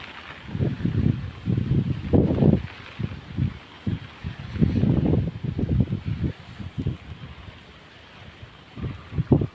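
Strong gusting wind of a Kalbaishakhi storm in Pirganj, heavy buffeting roars that surge and fade against the microphone.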